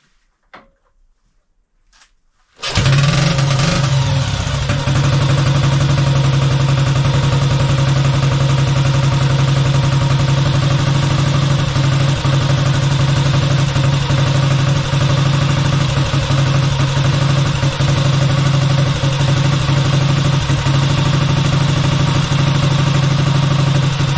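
After a few faint clicks, a Velocette motorcycle engine with an adjusted AMAC 15 MDY carburettor fires up and runs at full throttle, a loud, steady, dense roar holding constant for about twenty seconds, close by and without voices.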